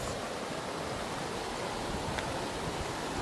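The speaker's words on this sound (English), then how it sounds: "Mini waterfalls." Small cascading waterfalls on a river give a steady, dense rush of water that stays constant and close throughout, with no voices.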